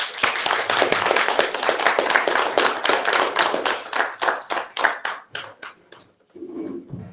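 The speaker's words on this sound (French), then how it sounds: "On peut les applaudir." Applause for newly elected deputy mayors at a town council inauguration, steady dense clapping from an assembled room that thins into scattered claps and fades out near the end.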